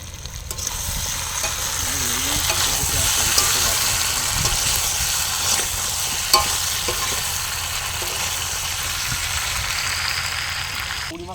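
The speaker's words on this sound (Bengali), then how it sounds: "তো আমাদের তমাল ভাই আলু দিয়ে দিচ্ছে, কষানো হয়ে গেছে।" Potatoes are stirred into a frying meat curry at an outdoor picnic, with a loud continuous sizzle, hiss and scraping spatula strokes, and a few voices briefly heard over the cooking.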